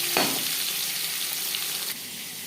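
Marinated fish frying in refined cooking oil, a steady bright sizzle with a sharp crackle near the start as the pieces hit the pan, holding even and close throughout with no talking.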